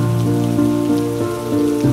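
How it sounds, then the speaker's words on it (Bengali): Heavy monsoon rain falls in a steady, dense patter that holds at an even loudness throughout, with no voices. "কিছুক্ষণ পরেই আবার ঝমঝমিয়ে বৃষ্টি শুরু হয়ে গেল, সঙ্গে বিদ্যুতের ঝলকানি আর তীব্র বজ্রনিনাদ।"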